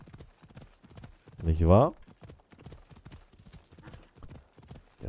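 Horse hooves clip-clopping at a steady trot in Assassin's Creed Odyssey, with a brief loud neigh early on and someone talking over the hoofbeats.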